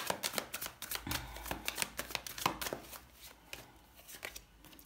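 Tarot cards are handled and laid down during a French astrology reading, giving a run of close, crisp card snaps and slides with a soft thump near the start, heard alone without speech.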